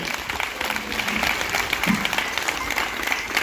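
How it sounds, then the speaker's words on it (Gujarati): An audience at a women's religious gathering breaks into strong, sustained applause, a dense even wash of clapping filling the whole stretch without pause. "તો જોરદાર તાળીઓ પાડો આપણા પોતપોતાના મા બાપ માટે."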